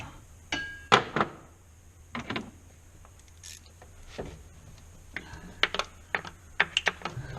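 A ratchet tightens a 10 mm nut on a 6.0 Powerstroke valve cover install, giving scattered bursts of quick, close clicking between quiet gaps, fairly faint overall.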